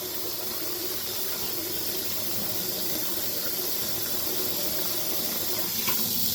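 Tap water runs steadily into a sink, rinsing stripped paint off model car bodies down the drain, a continuous close splashing hiss with no talk.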